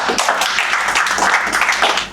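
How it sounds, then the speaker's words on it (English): Audience applause at a business strategy talk, a dense, steady patter of many hands clapping close by, loud and continuous for the short stretch with no voices over it. "Clap for him."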